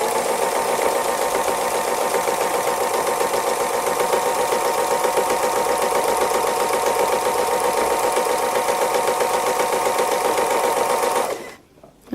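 A sewing machine runs continuously through free motion embroidery, a loud, fast rhythmic mechanical whir close by that stops abruptly near the end.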